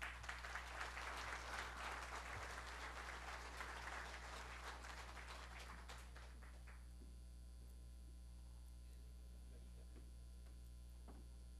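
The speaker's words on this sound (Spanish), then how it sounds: "con un aplauso sonoro demostremos que la hemos aprobado totalmente." An audience at a formal Spanish-language event bursts into loud, dense clapping for several seconds before it thins out and fades, leaving a steady electrical mains hum underneath.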